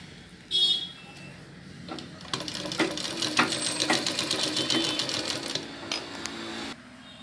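A sewing machine stitches a pot neck blouse, running steadily and close for several seconds in a fast mechanical rattle, starting and stopping with brief quiet gaps.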